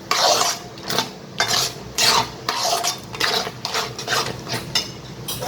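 A spoon stirring fried vegetables into white sauce in a pan for homemade pasta, with rhythmic scraping and clinking strokes against the metal, close and fairly loud, with no talk.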